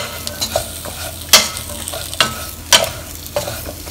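Carrot and long beans are stirred into curry in a pan, with loud spatula scrapes and clatters every second or so over a steady light sizzle, close up and with no voices.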